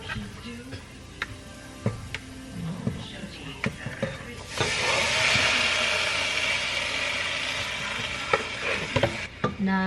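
Garlic fries in a pan without added oil, starting with scattered taps and stirring clicks before a loud, steady sizzle takes over partway through, with a few sharp knocks near the end.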